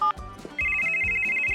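A telephone rings with a steady, sustained electronic tone over a busy background of voices and other sounds, starting partway through and continuing to the end.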